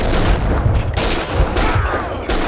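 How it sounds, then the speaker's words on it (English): Gunfire in the video game Max Payne 2: loud, dense bursts of shots and booming impacts, rattling on without a break, with no talk over them. "Someone must have heard the gunfire."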